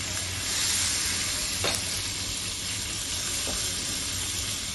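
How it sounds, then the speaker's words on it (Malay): Hotdogs frying in a pan as a little water is added, giving a loud steady hiss and sizzle with faint stirring scrapes, close up and without talking. "kita boleh masukkan air sikit dan sikit"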